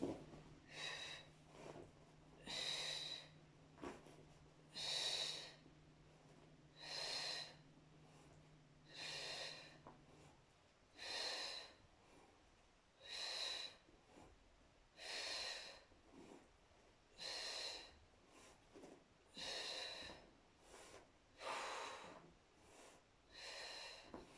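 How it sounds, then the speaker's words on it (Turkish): Rhythmic breathing during an abdominal workout, in through the nose and out through the mouth, with about a dozen sharp, evenly spaced exhalations close to the mic, one every couple of seconds, and no talking. "Burundan nefes al, ağızdan nefes vermeyi unutma."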